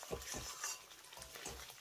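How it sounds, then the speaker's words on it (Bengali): Fried potatoes with spices are stirred in a hot pan for Bengali niramish cooking, with soft scraping strokes over a faint, steady sizzle, close and quiet. "আলুটাকে মশলার সঙ্গে 2 থেকে 3 মিনিটের মতো এইভাবে একটু নেড়েচেড়ে কষিয়ে নেব।"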